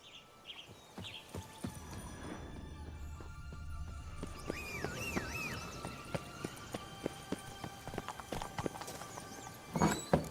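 Roach the horse's hooves clip-clopping in The Witcher video game, a steady run of hoofbeats with occasional louder stamps, set over background game ambience and distant bird calls.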